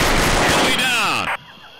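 Rapid, loud gunfire bursts in the online shooter Combat Arms, a dense volley of shots with a ringing sweep before cutting off abruptly into quieter background.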